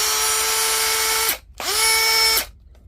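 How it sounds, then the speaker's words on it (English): A Makita 18V LXT cordless drill whines at high speed, stops briefly, then spins up again and runs before stopping, close and loud with no talking. "Ignore the noise of the drill"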